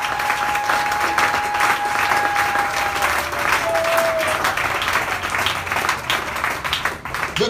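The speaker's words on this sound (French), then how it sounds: "If you believe, clap for the Lord." A church congregation claps for the Lord during a bilingual French-English sermon, a dense, steady wash of applause that holds loud and continuous throughout, with a faint sustained tone briefly running beneath it.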